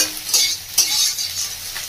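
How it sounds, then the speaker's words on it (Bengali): An egg fries in a pan, browned until reddish, giving a steady close sizzle with brief scraping stirs of a spatula against the pan, and no voices. "ডিমটা ভাজা হয়ে গেছে, তা দেখে বুঝতে পারছেন একটু লাল লাল করে ভেজে নিয়েছি।"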